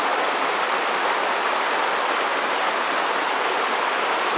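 The wild Gera river in icy Thuringian winter rushes loudly and steadily, a dense continuous hiss of churning water close by with no voices.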